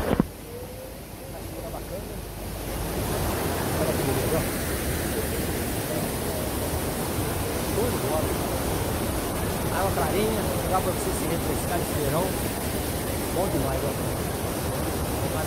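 A steady, dense roar of a waterfall in Santa Rita de Jacutinga, Minas Gerais, Brazil, fills the whole clip, loud and continuous without pauses.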